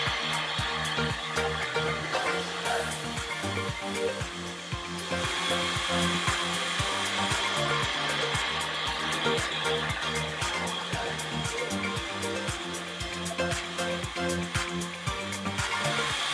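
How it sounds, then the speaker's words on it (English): A lathe facing and drilling through a brass safety valve body, a continuous steady machining whir with faint rhythmic cutting chatter throughout, close and even in loudness, with no talk. "The other end of the safety valve body is then faced and drilled through."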